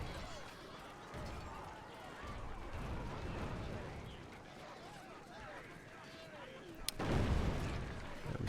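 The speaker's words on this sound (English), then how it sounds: "we still got catapults firing" Catapults fire during a castle siege in Medieval Total War, with muffled booms and impacts scattered through a busy battle din and a sharper crash near the end, while someone talks over it.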